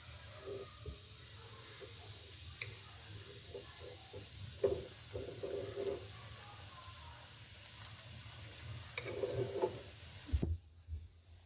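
Dahi bhalla batter spoonfuls sizzling in hot oil in a frying pan, a steady soft hiss with brief louder crackling bursts, ending in a sharp clatter.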